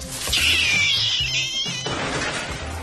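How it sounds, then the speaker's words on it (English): A cat in the 1992 family action film Suburban Commando gives a loud, screechy yowl that drops off into clattering commotion and background noise. "That's not my cat."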